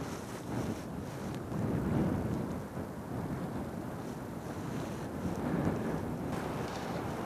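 Gusty wind blows across the microphone beside the Crowsnest River on a cold day, a steady broadband rush swelling and easing over several seconds with no voices.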